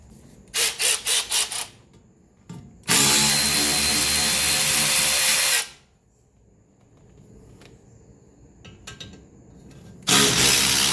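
On a 1983 Mercedes 300D front suspension, a power tool spins out bolts during ball joint and shock work: a stuttering burst of rapid impacts, then a long loud whirring spin, quiet clicks, and another burst at the end.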